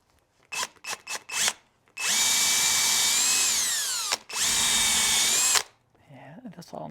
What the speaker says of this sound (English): Maybe I should just drill that out entirely